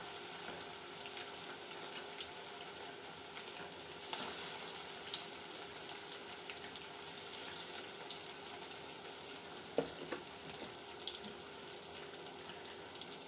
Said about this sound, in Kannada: ಎಣ್ಣೆ ಸಿಡಿಯುತ್ತೆ, ದೂರ ನಿಂತ್ಕೊಂಡು ನೋಡಿಕೊಂಡು ಹಾಕ್ಕೊಳ್ಳಿ.